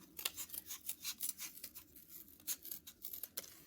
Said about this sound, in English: You kind of have to bend and curve the cardboard, and it's not too bad to get that to cut through